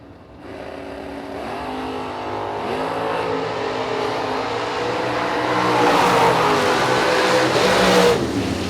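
Drag racing cars, the Chevy Love Truck among them, launch side by side down the strip. A loud engine roar builds and climbs in pitch for several seconds, swelling louder near the end.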